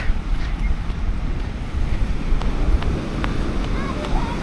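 Indian Ocean surf rolls and washes on a beach at Pemba, Mozambique, under blustery wind rumbling against the microphone, a continuous seaside roar.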